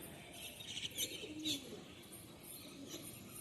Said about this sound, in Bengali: এক সেট কালো নাজরা পায়রা দেখো